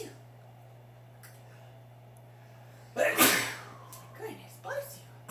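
A child fakes a sneeze: one loud, sharp burst after a few quiet seconds, followed by a couple of smaller breathy sounds, over a steady low hum.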